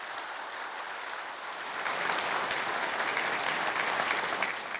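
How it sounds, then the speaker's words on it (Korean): An audience at a Korean agricultural cooperative monthly assembly applauds, a dense steady clapping that swells after two seconds and continues unbroken with no voices heard. "박수 한번 보내주시기 바랍니다."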